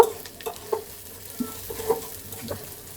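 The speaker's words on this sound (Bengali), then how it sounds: "তো পেঁয়াজ রসুনটা ভেজে নিচ্ছি।" Onion and garlic fry in oil for a dal tempering, a low steady sizzle broken by a few brief scraping stirs, close and moderately loud with no talking.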